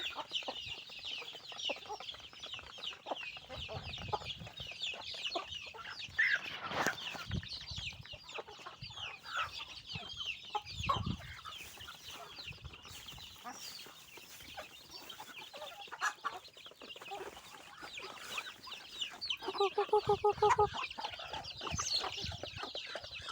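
Chickens, including young birds, clucking in a farmyard alongside ducks, with scattered close clucks and cheeps, a louder burst of calls near the end, over quiet outdoor background noise.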